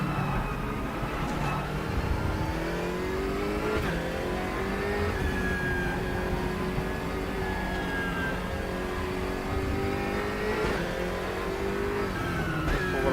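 A BMW M6 race car engine in the sim racing game RaceRoom Racing Experience revs and shifts continuously, its pitch rising and dropping through gear changes in a sustained, fairly loud drone.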